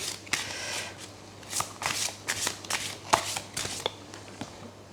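Slightly sticky tarot cards are shuffled by hand in warm weather, giving a quiet, irregular run of soft riffling flicks and taps with no talk.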